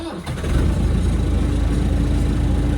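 A tractor engine cranks briefly and catches, then settles into a loud, steady, low rumbling idle close by that continues to the end.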